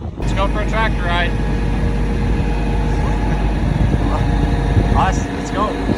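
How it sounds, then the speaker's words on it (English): A farm tractor drives along with a low, steady engine rumble, while people talk over it. "Let's go for a tractor ride"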